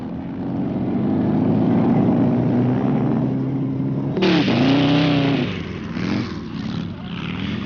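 Dune buggy engines, ranging from older 1100cc motors to units of nearly twice the capacity, drone steadily and then rev sharply on beach sand dunes, loud and close, with a sudden high-pitched surge midway.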